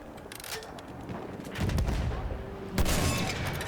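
Battlefield 1 gunfire from a Thompson-style gun, heavy rolling shots and booms in dense bursts, loud and close, with someone talking faintly underneath.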